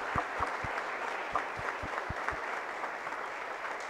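An audience claps together for the organising team at a project-competition prize ceremony, a steady, moderately distant patter of many hands with a few sharper nearby claps cutting through.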